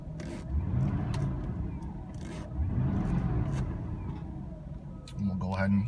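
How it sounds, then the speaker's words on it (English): A 1984 Mercedes 380 SL engine revs up several times, a near, rising roar in repeated bursts over a steady idle, with someone speaking briefly. "Give her a couple more revs."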